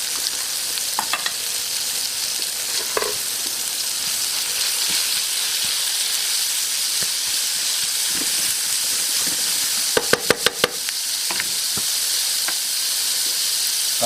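Ground beef for a gluten-free Greek moussaka sizzles steadily in a pan, a constant loud frying hiss with a few brief utensil clinks and a quick burst of knocks near the end.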